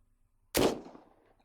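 A single sharp gunshot in a video game cracks out, loud and sudden, then decays quickly into a short echoing tail before silence.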